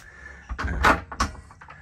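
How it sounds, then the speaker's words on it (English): A cabin door aboard an Antares 44 Hybrid catamaran is pushed closed nearby, a couple of soft knocks and a light clack as it shuts, with no talk over it. "So just to close this door"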